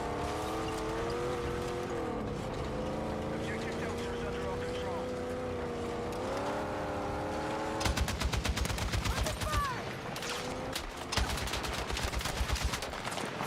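Rapid automatic gunfire in the video game Battlefield 6, sharp fast bursts of shots in the second half, following a stretch of engine-like drone and louder rumble.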